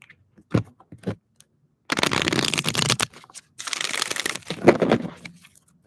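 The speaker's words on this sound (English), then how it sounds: "Let me shuffle a little bit." Oracle cards are shuffled by hand in close, crisp riffling bursts, two longer rustling runs after a few soft taps, with no talking.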